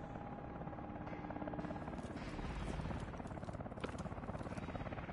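Helicopter in the video game Call of Duty: Advanced Warfare, a continuous rotor drone and engine buzz filling the scene at steady, moderate loudness, with faint game effects layered on top.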